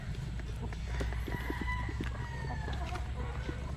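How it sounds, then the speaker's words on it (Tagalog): Chickens cluck and a rooster calls in a farm setting with Madre de Agua plants, the sounds fairly faint over a steady low background rumble. "Sagana na naman ang ating mga manok sa Madre de Agua"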